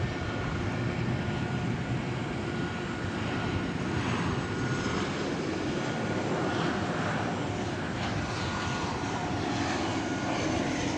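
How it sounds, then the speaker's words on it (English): Jet engine roar from a Boeing Business Jet Dreamliner 787-8 at DFW Airport, a loud, steady broadband rumble that holds at constant strength for the whole stretch, with no voices. "we're looking at a Boeing Business Jet Dreamliner 7878"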